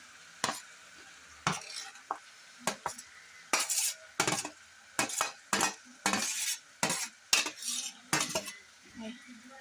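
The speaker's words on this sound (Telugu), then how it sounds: "తిని కూర అయితే ఇలా మిక్స్ చేసుకోవాలి" Chicken curry with tomato paste being stirred in a pan: a spoon scrapes and clacks against the metal in a run of close, uneven strokes, with a soft sizzle between them and no talking.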